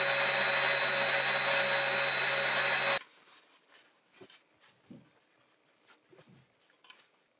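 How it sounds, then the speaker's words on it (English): A vacuum cleaner roars loudly for about three seconds while cleaning the parts of a fireplace blower fan, then cuts off, leaving quiet scattered clinks and rubbing of metal parts being handled. "We're just vacuuming and a rag to clean that out."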